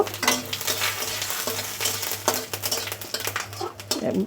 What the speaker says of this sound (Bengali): ভাজা হয়ে গেছে আমার ফোড়নটা